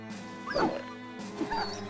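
Dog barks and yips in a video game, two short bursts over a steady droning music bed, fairly close.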